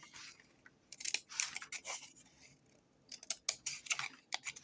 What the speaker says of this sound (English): Then I'm going to make a cut that's about halfway.